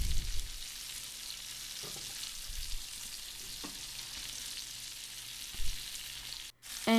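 Pork shoulder roast searing in a hot pan, a steady soft sizzle running throughout with a few brief clunks and shifts of the meat, then a short sudden drop near the end.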